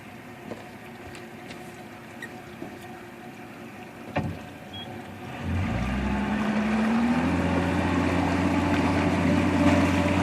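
A 2014 Suzuki 250 HP outboard motor hums steadily with lower-unit noise while searching for neutral, light clicks over the idle, then a louder rising mechanical whine and rumble kicks in partway and holds.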